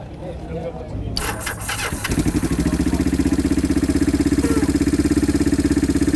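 A Yamaha XS250 cafe racer motorcycle, a shed-built bitzer with an Alpha 41 silencer, cranks and fires up, then settles into a loud, close, rhythmic idle thump.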